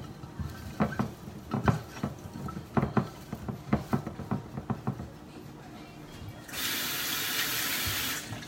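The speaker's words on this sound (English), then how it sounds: "Let's get some of this water from the bottom into that broccoli" Water splashes and patters in uneven bursts into a pan of broccoli during meal prep, ending in a steadier rushing pour like a running tap; close and fairly loud, with no talking.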